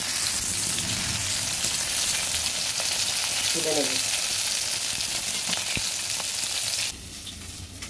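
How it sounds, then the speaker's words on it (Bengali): Pieces of katla fish fry in oil in a kadai with a loud, steady sizzle and crackle throughout, close up. A voice speaks briefly and there is a clink partway through. "উল্টে পাল্টে এই মাছগুলো ভেজে তুলে নিচ্ছি"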